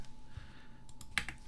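A few quick, close keystrokes click on a computer keyboard over faint room noise.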